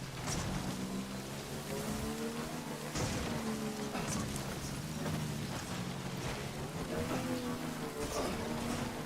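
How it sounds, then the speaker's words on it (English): Steady rainfall in the video game Death Stranding, a continuous dense patter that stays fairly constant throughout with no voices. "Of course, we are going to get rain on this side."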